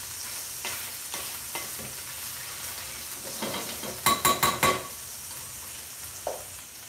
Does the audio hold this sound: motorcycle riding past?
no